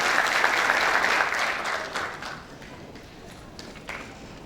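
Audience at a convention signing ceremony during an academic-industrial forum applauds, with a full burst of many hands clapping that tapers off after a couple of seconds into scattered lighter claps.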